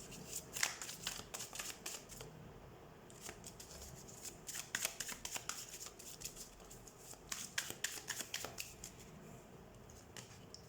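Tarot cards shuffled by hand in repeated crisp riffling bursts, close and fairly quiet, with short pauses between runs and no talking.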